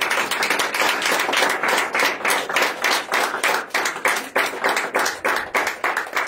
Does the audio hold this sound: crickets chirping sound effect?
no